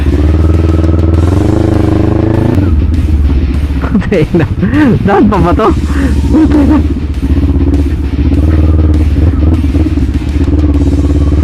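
A motorcycle engine hums and revs steadily and loudly while riding a rough off-road track in Bulacan, with clattering bumps along the way. People talk over the engine noise partway through.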